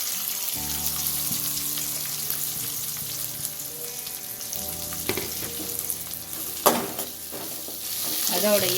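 Onion, green chilli and curry leaves sauté with mustard seeds in hot oil, a constant close sizzle with stirring scrapes and a sharper crackle near the end, and a voice briefly speaks.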